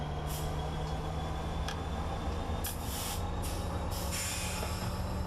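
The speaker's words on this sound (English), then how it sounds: "We get to drive the train." A train drives in the game Train Simulator 2015, a constant low rumbling engine drone with a steady hum and intermittent hissing bursts from air or steam, even in level and heard alone.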